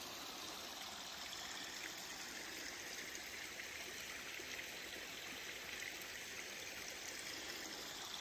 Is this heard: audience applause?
no